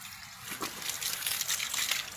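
Water gushes steadily from a pipe joint that has pulled apart in a forest water line, a soft continuous rushing with slight surges, close and fairly quiet.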